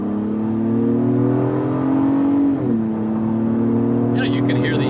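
A 2022 Acura MDX accelerates hard in sport mode up a highway on-ramp, heard from inside the cabin as a loud, steadily rising engine tone with a brief dip at a gear change before it climbs again.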